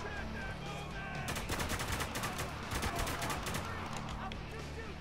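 Gunfire rattles in the video game Spec Ops: The Line, with rapid bursts of automatic shots clustered in the middle under a continuous game soundscape with low background tones.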